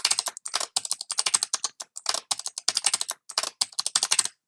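Password being typed on a computer keyboard while setting up a Windows Server 2025 virtual machine, a quick uneven run of close, crisp key clicks with short pauses, no voices.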